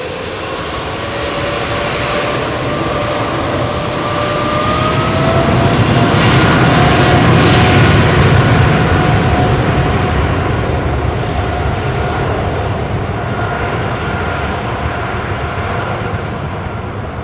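Jet airliner departing runway 27R at London Heathrow, heard up close as a loud, sustained engine roar that swells to a peak midway and then gradually tapers, with no voices.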